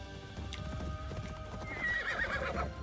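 In Assassin's Creed Shadows, a horse's hooves clip-clop steadily beneath a bright, rising whinny near the end, with a faint musical backdrop.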